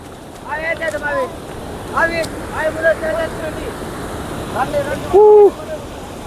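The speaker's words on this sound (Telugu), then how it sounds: "వాటర్ ఫాల్ అనేది ఉంటుంది సౌండ్ వినిపిస్తుంది" Pantamanu waterfall pours in a forest setting, making a steady, broad rushing roar that runs the whole time beneath several people talking nearby.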